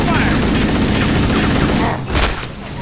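Loud, continuous automatic gunfire in Halo forms a dense, roaring barrage that briefly dips near the end before another burst.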